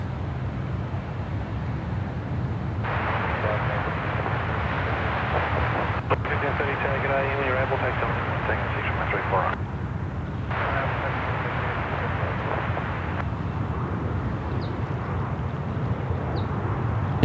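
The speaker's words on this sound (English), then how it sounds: "Jetstar 508, the A321neo, that's dropping it in there. Runway 34 left." A Jetstar Airbus A321neo airliner lands on runway 34 left at Sydney Airport with a steady, loud, broad engine roar that swells and fades over a constant background rumble, and voices are faintly present.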